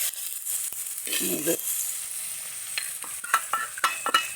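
Spices with fenugreek powder and turmeric frying in a pan for fish curry, a constant close sizzle broken by a burst of hissing and several quick scraping stirs toward the end.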